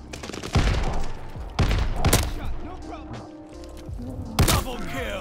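Heavy slugs boom from a revolving shotgun in a first-person shooter game, three loud blasts spaced about a second or two apart with long rumbling tails, while voices talk and exclaim between the shots.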